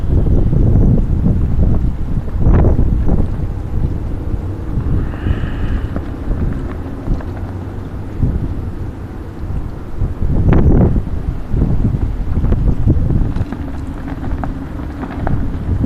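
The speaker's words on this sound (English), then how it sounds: "Here goes the wind again." Strong windstorm gusts in Cleveland, Ohio roar continuously and loudly, buffeting the microphone with rumbling surges and a few sharper blasts throughout.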